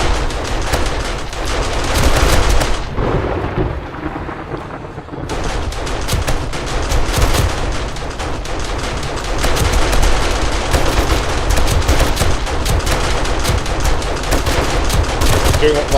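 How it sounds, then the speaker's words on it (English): Rapid, loud gunfire in 7 Days to Die during a horde night. Shots crack in dense bursts almost nonstop, with a short lull partway through, as long-range sniper fire blends with the wider fighting. "Doing long-range sniper fire I can to help the south side"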